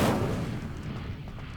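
The Incendio fire spell is cast in the video game Hogwarts Legacy, opening with a sharp, loud whooshing burst that decays into a rumbling fiery tail over about a second and a half.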